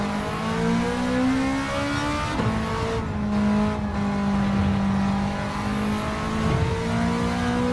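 Race car engine in Gran Turismo 7 running on racing slicks, a loud continuous drone with steady harmonics that briefly dips and rises as the revs change, the car pulling through corners with a hint of tire noise.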